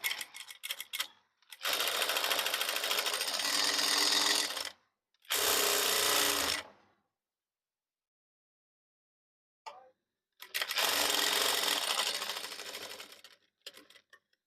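A sewing machine stitches a blouse dori (tie cord). It runs in three loud, steady bursts of a few seconds each, separated by silent pauses, close up and with no talk.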